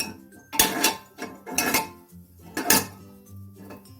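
A small metal stand is set down inside a pressure cooker, giving several close, sharp metallic clanks and scrapes with brief ringing tails, separated by short pauses.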